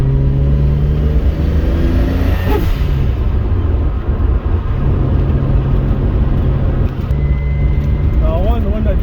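Toyota Supra fitted with a 1.5JZ engine pulls steadily from inside the cabin, a loud low engine drone with rising tonal whine, briefly easing off before building again, with a faint turbo whistle toward the end.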